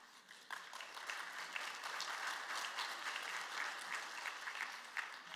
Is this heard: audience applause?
yes